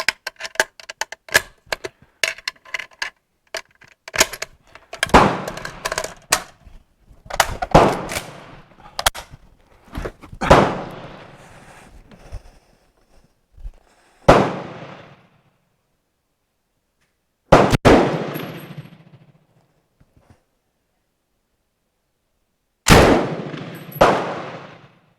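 A Bren MK2 machine gun fires surplus Greek ammunition: loud, sharp reports in rapid bursts at first, then separated by pauses into isolated single shots and short pairs, with no talking.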